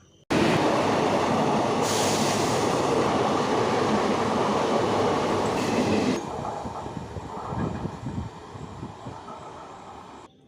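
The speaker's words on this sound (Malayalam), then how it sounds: "ഒരു ട്രെയിൻ തിരുവനന്തപുരം സെൻട്രലിലേക്ക് കടന്നു പോകുന്നുണ്ട്" A train passes close through Pettah railway station in Thiruvananthapuram, heading for Thiruvananthapuram Central. The heavy, steady roar of rolling wagons fills most of the stretch, then eases into a rattling clatter as it draws away.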